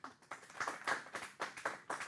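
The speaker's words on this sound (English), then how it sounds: "Give her a big round of applause, everybody." A small, faint round of applause at a youth victim-empowerment conference in Standerton, heard as a handful of distinct, rhythmic claps in steady pulses.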